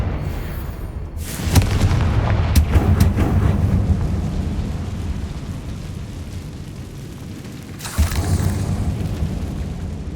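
Confringo spell blasts going off in the video game Hogwarts Legacy: a cluster of sharp, loud bursts early on with a deep rumbling tail, then another blast near the end.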